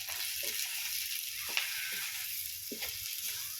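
Hot oil sizzles and fries aromatics for a Lao-style rice noodle sauce, a steady close crackling hiss running throughout with small bursts of spatter and no talk.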